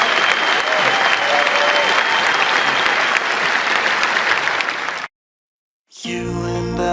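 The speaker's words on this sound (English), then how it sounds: "Please give a big round of applause for Travis Pangburn and Pangburn Philosophy for putting this event together" Sustained audience applause at a live Pangburn Philosophy event with Sam Harris and Sarah Haider, a loud, even wash of clapping that cuts off abruptly and is followed by other sound after a brief silence.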